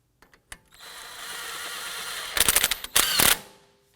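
A power tool snugging the axle bolt on a 2003-2014 Volvo XC90 front lower control arm, a close whirring buzz that builds into loud rapid rattling impacts in two bursts before stopping.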